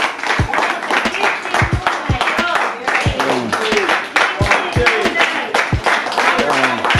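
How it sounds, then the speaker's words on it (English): A small group claps outdoors in a sparse, uneven rhythm of sharp close claps, with people talking and murmuring underneath throughout. "I'm going to give them a round of applause again"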